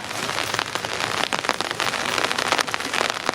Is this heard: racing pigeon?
no